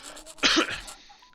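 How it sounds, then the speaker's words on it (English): A single harsh cough, close and fairly loud, from a character in the video game Pentiment, with quiet game sound before and after it. "Cough cough."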